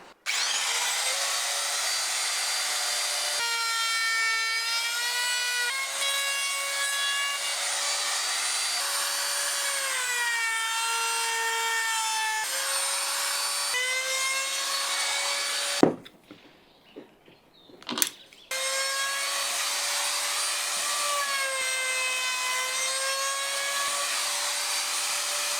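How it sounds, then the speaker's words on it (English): A power sander works over a wooden workshop clamp-organizer rack with a steady, high whine that shifts slightly in pitch, cutting out briefly about two-thirds through before resuming. "I'm going to finish it off by giving it a quick sand."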